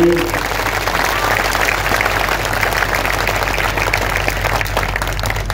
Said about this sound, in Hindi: आज एक बार तालियों का उत्सव कर दीजिए।